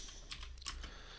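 Keystrokes on a computer keyboard as a git push command is entered, a few quick taps clustered in a short burst, close and fairly quiet over a low room hum.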